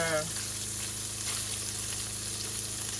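Sausages fry in a pan with a steady, even sizzle held close for a few seconds, a broad continuous hiss with a brief tonal sound at the start.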